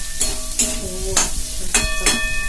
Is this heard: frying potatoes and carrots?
yes